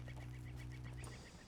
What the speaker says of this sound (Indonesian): Pheasant adanya, pheasant.